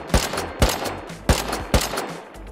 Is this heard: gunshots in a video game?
yes